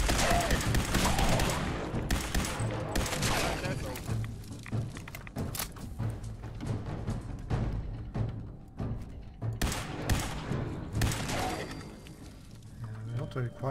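Rapid gunfire from a Fallout 4 firefight, dense bursts of shots and thuds running almost continuously at a loud level, with a voice talking over the shooting.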